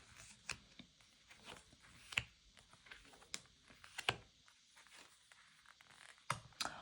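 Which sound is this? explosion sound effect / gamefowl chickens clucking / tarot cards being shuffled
tarot cards being shuffled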